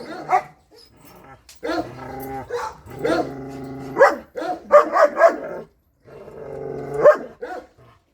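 Dog (Boyka) barking, yipping and whimpering in close, agitated bursts with short silent gaps, loud and near, alone without other sounds.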